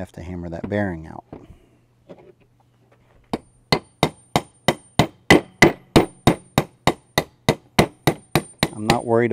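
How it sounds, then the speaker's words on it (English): An old encoder bearing is hammered out of a 2010 EZGO RXV golf cart with a rapid, even series of sharp metallic hammer strikes, close and loud, with someone talking before and after. "And now we have to hammer that bearing out."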